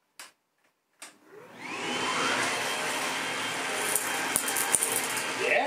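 Bosch Athlet 24v cordless vacuum cleaner switching on after a couple of clicks, its motor spinning up into a steady, close whooshing whine at full power, with faint rattles of debris being picked up.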